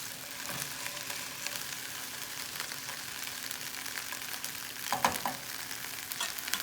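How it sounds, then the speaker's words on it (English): Okra cooks in a pan with a faint steady sizzle, broken by a brief scrape of stirring near the end, quiet and without any talk. "now we can start our another process while okra is cooking, and we will just stir it in between"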